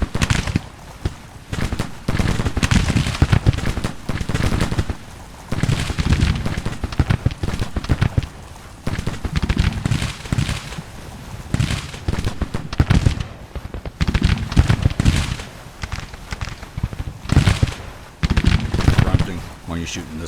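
Musket gunfire in the Civil War strategy game Grand Tactician: The Civil War, ragged volleys of brigade fire popping in repeated waves, loud and continuous, with a voice speaking over the battle.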